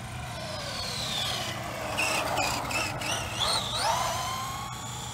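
Redcat Racing Camo TT RC truck running on a 2S lipo, its electric motor whining in rising and falling sweeps as it speeds up and slows, heard at moderate distance over steady outdoor background.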